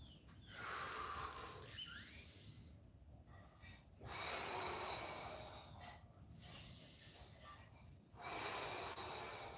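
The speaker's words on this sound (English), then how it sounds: "Breathing deep, inhale tall." Deep, heavy breaths come during a squat exercise, long loud inhales and exhales in a slow, repeated rhythm, close and breathy, with no talking.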